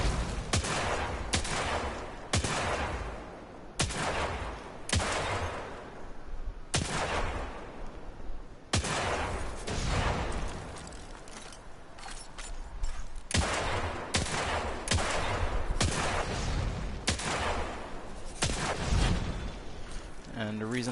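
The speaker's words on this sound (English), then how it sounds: "the reason I feel confident using a hand cannon at this range" Hand cannon gunfire in the video game Destiny 2, with heavy single shots going off at a steady pace, each a loud sharp crack followed by a short decay, repeated roughly a dozen times with brief gaps between.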